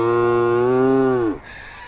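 A cow gives a single long, loud, close moo on a farm, a steady harmonic call that holds for over a second before cutting off, with quiet open-air background afterward.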